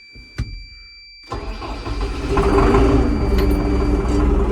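An MTZ tractor engine, its exhaust valves freshly adjusted, cranks with a short burst, falls briefly quiet, then catches and settles into a loud, steady diesel idle that builds and holds to the end.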